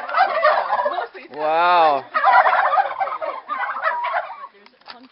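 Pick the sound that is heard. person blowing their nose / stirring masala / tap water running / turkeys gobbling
turkeys gobbling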